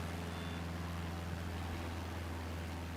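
Steady, dense engine roar of a plane throttling up, loud and constant throughout with a low droning hum and no talking.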